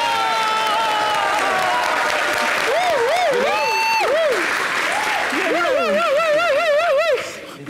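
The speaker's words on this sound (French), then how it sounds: "Applaudissez bien, Yagombo." A studio audience on a television variety show applauds steadily, with cheers, while a voice sings or speaks loudly over the clapping throughout.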